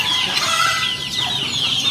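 Backyard hens cluck and call in a busy, close chorus, a dense run of sharp clucks with a drawn-out crow-like note, no voices.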